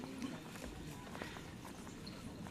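Hooves of a cow being let loose at a bull racing practice field in Pamekasan clop on the ground in a rapid, uneven patter, set against steady outdoor noise with faint voices.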